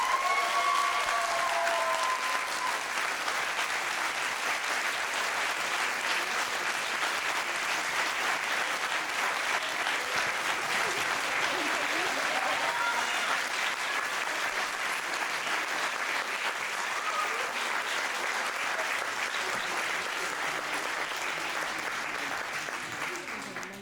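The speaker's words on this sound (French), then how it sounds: "on peut encore les applaudir super fort" Sustained loud applause from a dance performance audience at the Briqueterie de Montmorency, a thick even roar of clapping filling the room for over twenty seconds and tapering off near the end.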